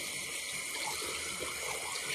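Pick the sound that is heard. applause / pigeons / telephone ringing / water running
water running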